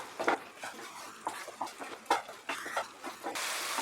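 A spoon scrapes and clinks against a pan while kadai chicken curry masala is stirred with yogurt, giving irregular soft knocks and scraping strokes close by, ending in a steady sizzle.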